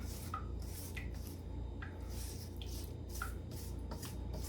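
Spatula spreading frosting across a Christmas cake: soft, steady rubbing and scraping strokes repeating every second or so, close up, over a low constant background hum.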